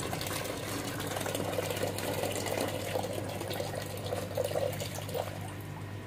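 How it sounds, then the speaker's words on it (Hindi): Water drains quickly out of a custom-built aquarium tank, a steady gurgling pour with a low mechanical hum underneath, moderately quiet and continuous. "देखिए एकदम स्पीड से पानी निकल रहा है"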